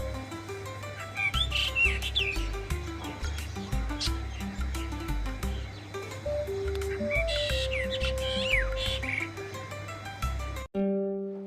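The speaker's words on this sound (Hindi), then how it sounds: "गांव की चहचहाट कभी खत्म नहीं होती।" Birds chirp and call in a forest sanctuary at Kalesar National Park, India, scattered tweets sounding over a dense bed of music and steady ambience that cuts off near the end.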